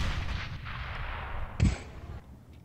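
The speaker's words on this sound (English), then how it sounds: "Grenade out!" A grenade detonates in a CS:GO competitive match on the Cache map: one sharp, loud low thump with a short bright burst, set against steady game background noise.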